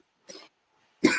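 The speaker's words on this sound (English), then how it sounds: "And you was coughing." A single person coughs twice, a short cough followed by a pause and then a louder, harsher one, close by with no other sound.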